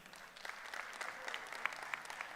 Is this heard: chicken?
no